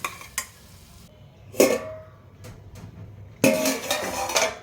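Baby potato curry with onion spice is stirred in a pot, with a few sharp scrapes and metallic knocks of the spoon against the vessel separated by quiet pauses, close by.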